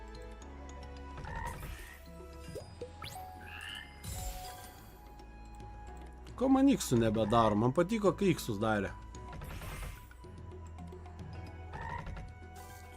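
Cartoonish frog croaks from the Tai the Toad online casino slot game pop up repeatedly amid chiming game music, with someone talking over them throughout and a louder run of croaks in the middle.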